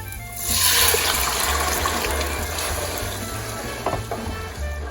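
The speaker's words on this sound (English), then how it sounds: "Now we're going to add in our entire can of tomatoes. This is going to make a little bit of noise" Loud sizzling and hissing as a whole can of tomatoes hits a hot pan, a bright spattering burst that settles into steady bubbling with a few pops.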